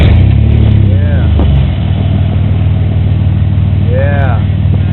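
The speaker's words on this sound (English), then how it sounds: "we can just rev our engines for you" A car engine with a rusted-out 3-inch MagnaFlow exhaust and aftermarket fuel injectors rumbles loudly up close, with a blip of revving early on before settling into a deep, steady idle drone.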